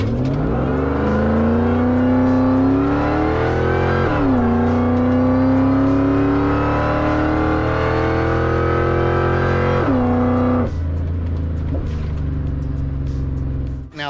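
A truck pulls hard down the road, its engine loud and close, climbing steadily through the gears with audible upshifts, then easing off to a lower drone near the end.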